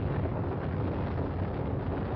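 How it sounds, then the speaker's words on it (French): Deep, muffled roaring rumble of a nuclear bomb explosion in the film Dr. Strangelove, dense low-heavy and sustained at an even level for a couple of seconds with no other sound. "la bombe explose."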